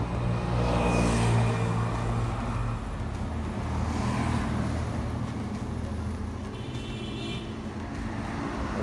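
A scooter fitted with a new footrest is ridden away from a parking spot, its small engine humming steadily with broadband road and traffic noise around it, fairly loud and close throughout.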